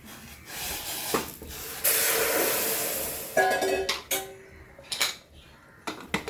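Boiling water pours into a cooking pot with a loud, steady hiss of steam lasting over a second, followed by scattered clatters and softer hissing.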